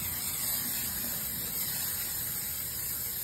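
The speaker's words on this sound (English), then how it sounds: "I'm gonna spray it with some Pam so that it doesn't stick." Pam cooking spray hisses from the can into a silicone bundt pan in one continuous close, steady burst lasting a few seconds, with no talk.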